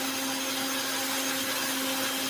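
An Oster Pro Series 2-in-1 kitchen system blender with an XL 9-cup Tritan jar grinds whole wheat kernels into flour, a loud, steady motor roar with a constant whine and gritty rush throughout.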